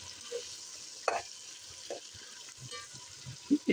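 Tomatoes softening in a pan for Banarsi pulao, giving a faint low simmer broken by a few soft stirring knocks and scrapes, the loudest two near the end.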